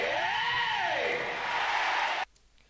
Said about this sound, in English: you duplicate that sample and then you reverse it and put it at the beginning so that it kind